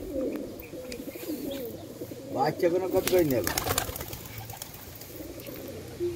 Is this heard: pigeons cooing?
yes